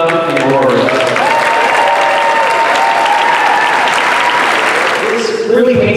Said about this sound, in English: a round of applause for Julie, Joshua, and Rory